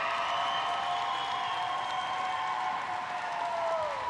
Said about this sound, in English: Give them one big round of applause